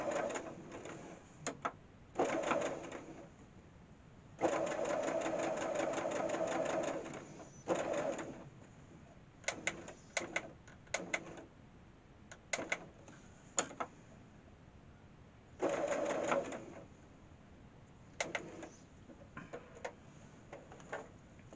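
Sewing machine stitching fabric for a 5-point star, quiet rapid ticking runs in short bursts and longer stretches, stopping and starting repeatedly.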